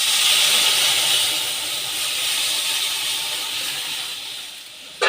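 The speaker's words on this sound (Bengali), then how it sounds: "এবার ডালটা আমি ফোড়নে দিয়ে দেবো।" Mung dal hits a hot spiced oil tempering in a Bengali kitchen, a loud, close, continuous hissing sizzle that slowly eases over several seconds.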